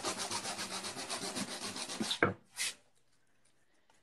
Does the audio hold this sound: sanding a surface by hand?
yes